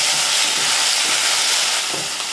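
Crushed onion sizzling in hot oil for a seafood rasam tempering, giving a loud, dense, steady hiss close up with no pauses and no talk.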